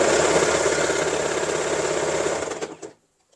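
A sewing machine stitches along the edges of a lehenga with a fast, steady mechanical whir up close, then slows with a few clunks and stops, leaving near silence.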